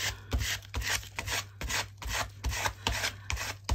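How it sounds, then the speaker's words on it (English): Rhythmic rasping strokes of a small card scraping paint down an art journal page made from a misprinted digital print, about nine close, even passes repeated alone without talk. "I take my little card and I just start scraping down"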